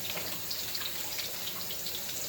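Hot water runs into a kitchen sink, a steady hissing splash with faint bubbly spatters, close by and unbroken for the whole stretch, with no talking.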